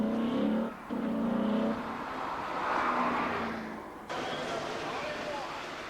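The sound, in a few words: Corvette ZR1 driving on a road test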